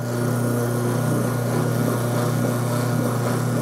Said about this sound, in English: I have a metal rod that I put in the bench motor, and I put some sandpaper on there. I'm going to spin that around